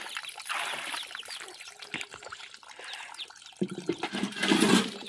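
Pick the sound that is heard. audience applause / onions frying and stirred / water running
water running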